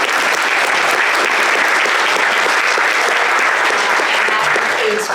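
Steady, dense audience applause at a Holocaust survivor talk, many hands clapping evenly and loudly for the full stretch without a break.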